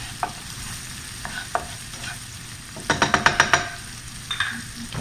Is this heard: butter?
yes